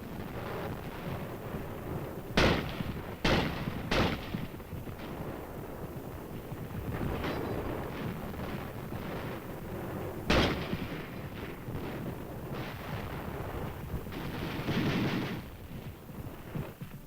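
World War II battle gunfire and artillery crack in scattered sharp bursts over a constant rumbling din, some shots close and loud, others distant, with an irregular rhythm across the whole stretch.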